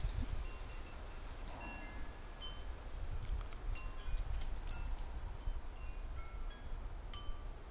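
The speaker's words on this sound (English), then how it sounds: "the wind, the breeze is really singing here through all the trees" Wind sweeping through trees outdoors, a soft steady rushing with gusty swells and faint high tones, no voices.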